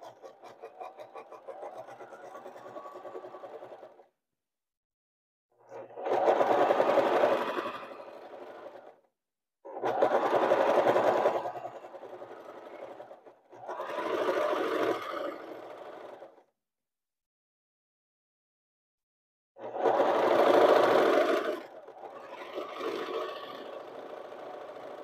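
A sewing machine stitches a pillowcase in several short bursts of steady whirring separated by pauses, sounding close and moderately loud.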